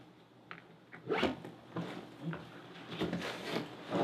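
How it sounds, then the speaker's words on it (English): A zipper on a Wandrd Hexad CarryAll 40L backpack is pulled in several quick rasping strokes, close and fairly quiet, with rustling of fabric between pulls. "So this side has another zipper from the inside, so you can access everything here"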